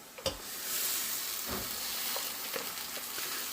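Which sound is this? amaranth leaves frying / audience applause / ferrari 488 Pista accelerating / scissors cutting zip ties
amaranth leaves frying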